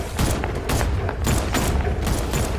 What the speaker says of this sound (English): Oh no, he's shooting it.